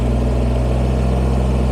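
A Kubota BX23S compact tractor engine runs steadily at a constant loud drone while logs are moved and property is cleared, with no speech.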